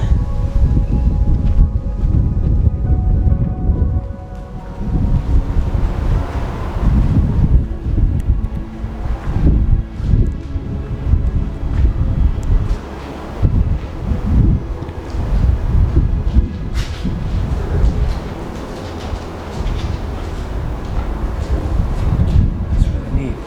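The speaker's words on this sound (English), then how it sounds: "It's so windy." Strong wind in Liechtenstein buffets the microphone in heavy low rumbles and gusts, steady throughout with no clear talk.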